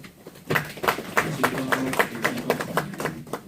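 A small audience at a farmers' education session in Danyang County gives scattered, irregular claps to welcome a corn-cultivation lecturer, moderately loud in a room, with no talk over it.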